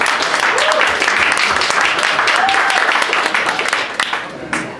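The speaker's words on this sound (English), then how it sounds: "let's give a huge round of applause to CustomInk for hosting this event" Event attendees give the host company a huge round of applause, loud sustained clapping from a crowd with faint whoops and voices mixed in, tapering near the end.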